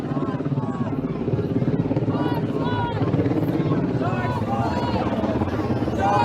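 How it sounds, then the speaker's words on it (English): A helicopter thumps steadily overhead near a police precinct, its rotor chop loud and continuous while someone talks over it and the noise of a large crowd mingles in. "There's the chopper"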